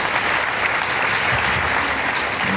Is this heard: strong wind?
no